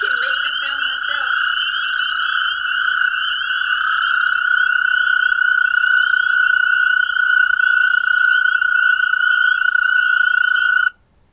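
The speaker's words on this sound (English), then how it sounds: "toad is about this, and it sounds just like this." A toad's call plays as one long, loud, unbroken trill that holds steady for about ten seconds and then cuts off abruptly, after a brief higher chirp at the start.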